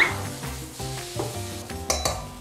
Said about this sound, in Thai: สุดท้ายนะครับใส่ใบโหระพาลงไป